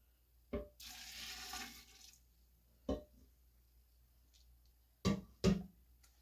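Liquid swirls around inside a pickle jar in one short sloshing burst, followed by a few sharp knocks and clunks of the jar with quiet pauses between them.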